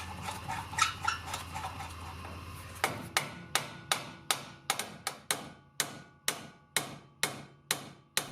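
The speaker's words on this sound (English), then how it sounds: "I used a small torch to heat up the taper and the knuckle and then hit it out with a hammer." A hammer knocks a heated outer tie rod end out of a car's steering knuckle, landing about fourteen loud, sharp metallic blows in a steady rhythm after a stretch of quieter workshop noise.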